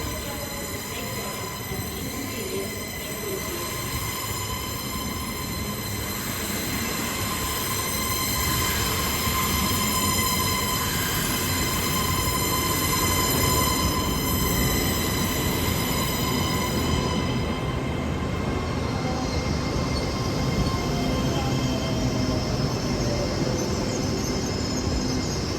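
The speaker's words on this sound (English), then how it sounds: "The next train to arrive at platform 3 will be the 1406 AVANTI West Coast service to London Euston via Birmingham" A train running through Carlisle railway station with a sustained metallic wheel squeal and steady rumble of rolling stock, loud and close, the high whine fading partway through as the train keeps rolling past.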